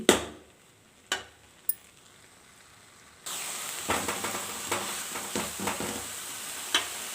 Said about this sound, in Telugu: దీనిలో తేమ అంతా వెళ్ళిపోయేలాగా డ్రై అయిపోయేలాగా వేయించుకోవాలి